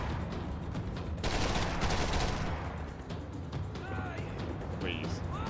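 Machine gun fire in the video game Max Payne 3, dense bursts of rapid gunshots with a heavier volley in the middle, mixed with game sounds and voices.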